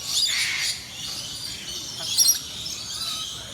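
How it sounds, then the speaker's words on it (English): Parrots in a Singapore bird park squawk in harsh bursts, with a sharper cry near the end, set against a steady open-air background. "They're all parrots."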